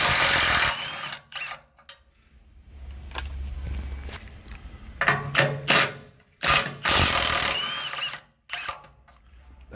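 A ratchet wrench works 18mm nuts off the lower transmission mount at the crossmember of a Ford Econoline van, giving sharp clicking bursts and metallic clanks separated by quiet gaps, close and intermittent.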